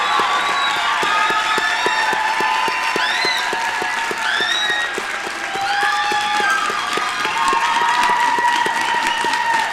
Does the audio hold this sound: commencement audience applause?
yes